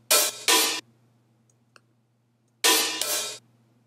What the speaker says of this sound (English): It's just some kind of really messy hi-hat that I pitched.